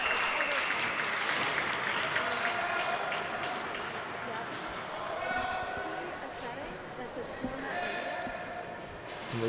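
Spectators at a freshman high school hockey game rise in applause as an injured player leaves the ice, a sustained rink-wide clapping that swells and eases, with an announcer talking over it.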